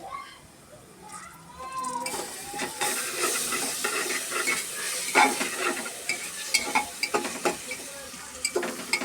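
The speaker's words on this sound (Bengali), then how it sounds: "আদা রসুন বাটা দিয়ে কিন্তু ভালোভাবে নেড়ে নেবেন" A spoon stirs ginger garlic paste in a pressure cooker while mutton bhuna cooks, giving scraping, sloshing strokes over a soft sizzle that builds after the first seconds, with faint voices in the background.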